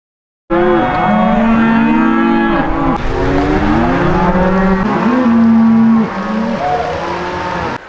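Many cattle mooing loudly and continuously as a herd is driven along in Colorado, with overlapping low calls close by and no speech.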